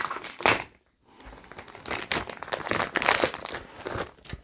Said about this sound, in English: Actually, let me cut this open for you.